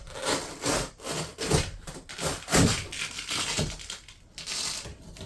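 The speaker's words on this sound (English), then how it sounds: "You hear the Velcro?" Velcro is pulled apart on a Coleman roof air conditioner unit of a Country Coach RV, giving a series of rough, tearing rasps in uneven bursts, close and fairly loud, with no talking.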